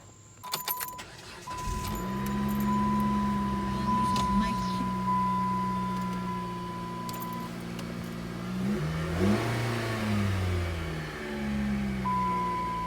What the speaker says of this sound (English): Definitely sounds like it's idling better.